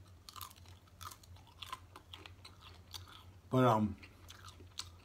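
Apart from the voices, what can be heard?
chewing crunchy Black Label bacon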